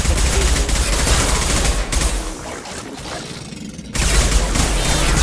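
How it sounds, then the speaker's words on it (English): Loud, dense gunfire from a Mass Effect 2 Legendary Edition firefight, with overlapping bursts and impacts that dip briefly in the middle, then return at full intensity. "They see you, Shepard. Taking fire."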